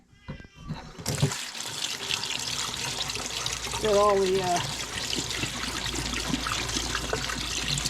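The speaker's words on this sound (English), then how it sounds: "Let's rinse off our little seaweed buddies here." Seaweed being rinsed under running tap water at a sink, a steady rushing and trickling flow that carries on throughout, with a person speaking briefly over the water.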